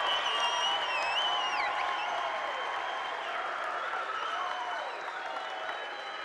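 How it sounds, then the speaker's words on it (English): A crowd at a college men's homecoming basketball game cheers and applauds, with whistles and shouts rising over a broad roar that stays loud and gradually eases. "Listen to the crowd."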